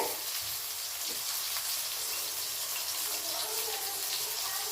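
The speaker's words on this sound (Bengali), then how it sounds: "আর হলুদ দিয়ে সয়াবিনটা ভালো করে ভেজে নেব।" Soya chunks frying with salt and turmeric in a pan give off a steady, dense hissing sizzle that stays even and close for the whole stretch, with no clear voices.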